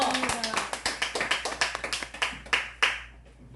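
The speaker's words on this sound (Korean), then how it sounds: "하나님께 박수로 영광 돌립니다." A church congregation clapping at a long-running praise festival, a fast, somewhat uneven rhythm of claps that slows and thins toward the end.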